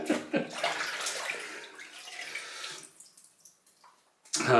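Tap water runs to rinse shaving lather off a straight razor blade. A close splashing rush fades over a few seconds, stops briefly, then bursts back at the end.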